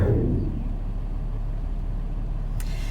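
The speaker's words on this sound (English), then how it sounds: "watching the traffic go by, looking at the icy conditions" Highway traffic rolls past on an icy morning, a steady low roar of cars and semi-trucks with a brief louder swell at the start, no voices.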